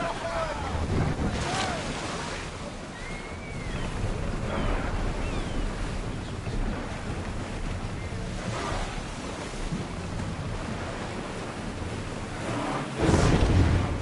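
A sailing ship in Assassin's Creed Odyssey pushes through open sea with steady wash and surf of waves and wind rushing past, a continuous broad roar with brief voices over it.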